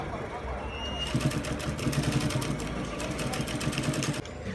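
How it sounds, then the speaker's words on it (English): A sewing machine runs steadily for several seconds, top stitching piping tape along a kaftan neckline, a close, even mechanical chatter with a quiet room tone before it starts and a brief pause near the end. "top stitch the piping tape on the neckline"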